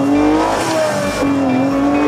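A 1974 Lancia Stratos HF Stradale drives close by, its engine note droning and shifting in pitch with a slight rise toward the end, loud and alone.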